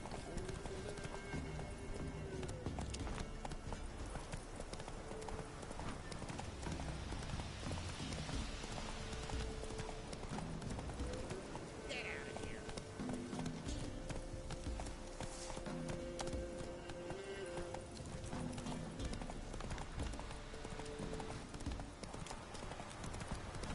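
Roach, a horse in The Witcher 3, gallops on with a fast, continuous drum of clip-clopping hooves, close and sustained, with occasional snorts and a voice speaking now and then.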